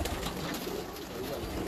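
A champion breeding pigeon coos softly and steadily, close by, with no talk over it.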